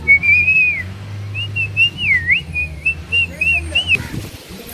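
A person whistles a wavering, sliding melodic tune outdoors near a crocodile farm by a dam, the whistle clear and close over a low background rumble, ending abruptly.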